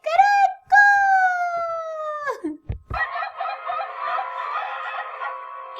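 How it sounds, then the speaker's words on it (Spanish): A rooster crows twice in long rising-then-falling calls, loud and close, followed by clucking and scratchy farmyard fowl sounds. "Así imitó el canto del gallo, pero en realidad suena de esta manera."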